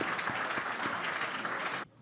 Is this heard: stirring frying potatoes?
no